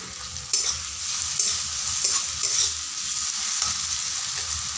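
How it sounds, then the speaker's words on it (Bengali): Ginger garlic paste frying in a pan for an egg curry, producing a strong, hissing sizzle with a few spatula strokes. Loud and close, continuous throughout, with no talking. "এরপর আমি আদা আর রসুনের পেস্ট দিয়ে দিচ্ছি।"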